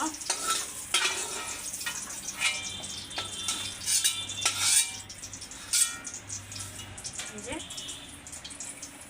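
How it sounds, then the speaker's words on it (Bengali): Onions frying in a kadai, a steady crackling sizzle with occasional stirring scrapes, close by, while a person talks over it. "এখন হচ্ছে পেঁয়াজগুলো ভেজে নিচ্ছি"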